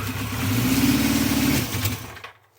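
A 1974 Honda CB350 Four runs rough on full choke with a faulty chain kit, giving a close, loud, uneven low engine drone that sputters for about two seconds and then cuts out.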